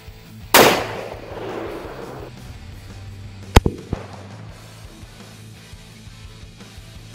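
A Desert Eagle .50 AE pistol fires into baby powder outdoors: one loud, sharp blast rings out and then fades into a lingering rumble, with a second crack and quick echoes a few seconds later.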